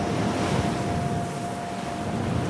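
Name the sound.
strong wind blowing over North Sea waves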